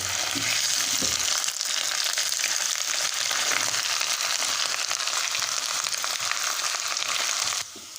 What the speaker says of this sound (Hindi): अब इसको भी मैं थोड़ी सी देर के लिए यहाँ पे भुनाई करूँगा ताकि ये हल्के ब्राउन हो जाए